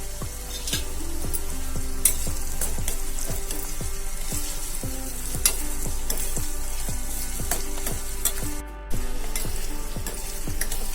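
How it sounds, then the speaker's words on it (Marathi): Chopped onion with three or four garlic cloves sautéing in a pan for wild taklyachi bhaji, a continuous close sizzle with regular spoon scrapes and taps throughout, and no one speaking. "आपल्याला कांदा जास्त शिजवायचा नाहीये थोडा शिजून घेऊया"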